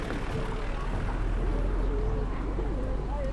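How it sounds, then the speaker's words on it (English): Pigeons coo softly outside a church in Padua, Italy, in repeated low phrases against a steady background rumble, the calls fairly faint and overlapping. "that's where the pigeons came from"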